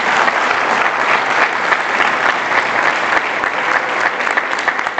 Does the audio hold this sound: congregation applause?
yes